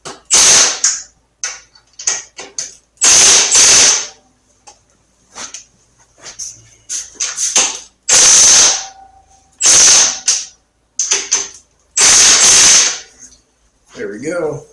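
A ratcheting wrench clicks in loud, close bursts of rapid pawl ticking while the headlight bezel bolts on a Harley-Davidson Road King are tightened, with short pauses between strokes.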